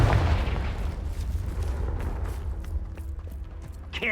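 A Confringo fire spell in Hogwarts Legacy detonates as a deep, rumbling boom that rolls on for several seconds and slowly fades, with low crackling debris underneath.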